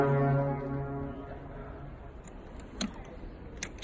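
A St. Louis Blues hockey goal horn blasts loud and close with a deep, steady harmonic tone for about a second, then decays into reverberant noise with a few faint clicks.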